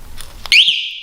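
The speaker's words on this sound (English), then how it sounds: "That means the alarm is on." An alarm on an Electric Bike Company Model R e-bike arms with a single short, loud, high electronic chirp that holds briefly and fades, after faint background noise.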